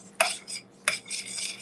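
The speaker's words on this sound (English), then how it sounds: "I used about 10 ounces of Velveeta for that. And now I just stir it together." Macaroni and melting Velveeta cheese being stirred together, with two sharp metallic scrapes of a spoon against the pot, each followed by wet, squelching mixing sounds, close and alone.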